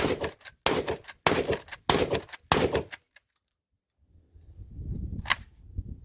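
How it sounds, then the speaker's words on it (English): Five loud, close shots from a UTS-15 shotgun in rapid succession, each a sharp blast with a short ringing decay, followed by silence and then low rumbling background noise. "4 in the tube, 1 in the chamber. Here we go. 5 shots."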